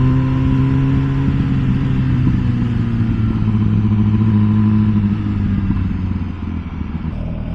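An MV Agusta Brutale 1000 RS naked sport motorcycle with a stock exhaust rumbles loudly and steadily while riding, a deep, smooth engine drone holding an even pitch before easing slightly at the end.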